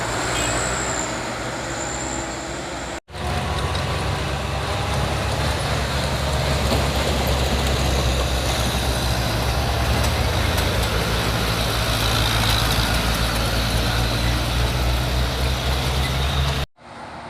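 An overloaded Fuso truck grinds up a steep hill with a strained, continuous engine roar and road noise, loud and steady, with abrupt cuts near the start and end.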